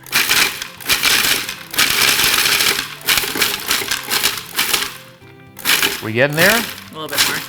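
A food processor pulses paleo oatmeal ingredients toward a coarse-grain texture, giving loud, choppy grinding bursts separated by short pauses, with people talking between pulses.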